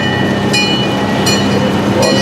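Brevard Zoo Cairo Express train ride in Melbourne, Florida, rolling along with a steady rumble and repeated brief high metallic squeals or clanks.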